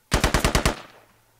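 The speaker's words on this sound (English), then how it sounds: "Did you hear the shots?" A rapid burst of about six automatic gunshots in the military shooter game Squad, loud and close, followed by a short fading echo, with no talking.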